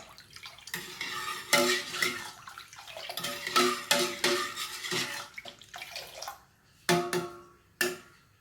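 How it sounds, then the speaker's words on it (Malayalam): Sugar being stirred into milk in a cooking pot gives irregular bursts of liquid sloshing and utensil scraping against the metal, with short pauses in between, close by and moderately loud. "നന്നായിട്ടൊന്ന് ഇളക്കി യോജിപ്പിക്കുക"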